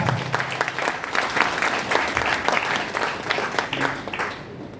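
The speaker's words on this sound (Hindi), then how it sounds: "एक बार जोरदार तालियां हमारे कंपनी के सीईओ डॉक्टर करण गोयल से" A company program crowd gives loud, steady applause for its CEO, Dr. Karan Goyal, with dense clapping filling the whole few seconds without a break.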